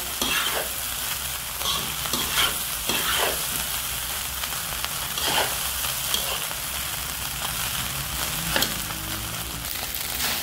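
Fried rice seasoned with fish sauce sizzling and frying in a pan, with repeated scraping stirs of a utensil against the pan over a steady close crackle.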